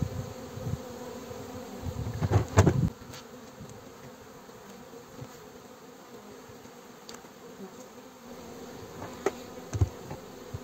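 Honeybees buzz around a hive during a spring inspection, a steady droning hum with louder bursts of close wingbeats near the start and again toward the end.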